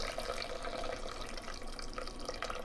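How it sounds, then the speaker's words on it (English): Water from soaked dates trickles and splashes steadily into date nut bread batter, close up and continuous throughout with no talking. "Now we're going to add the water from the dates,"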